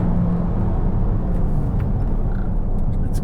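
A Volvo V90 T6 engine pulls in second gear around 4,000 rpm, giving a steady, loud, continuous rumble and drone with no break over the few seconds.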